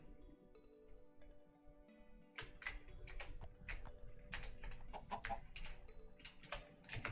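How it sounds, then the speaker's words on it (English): A chicken clucks in a block-building game on the alfheim.pw server, soft and intermittent, mixed in with clicking and scraping game noises, with no talking. "That is a very royal chicken."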